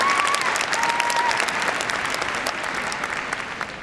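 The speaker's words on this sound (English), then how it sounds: "Give her a big round of applause" Audience applause fills the arena at the Crufts dog show during a gundog display, a steady, dense wash of clapping throughout with a brief whistle near the start.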